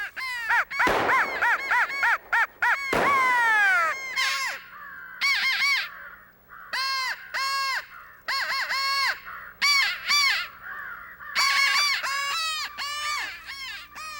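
Crows caw repeatedly during a crow hunt, loud rhythmic bursts of harsh calls coming in close clusters separated by short pauses, several birds overlapping, with no talk.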